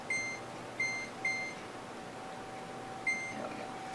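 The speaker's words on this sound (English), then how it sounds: "I'll set my timer for 5 minutes." Short electronic beeps from a kitchen timer sound at close range: three quick beeps in the first second and a half, then one more near the end, above a faint steady hum.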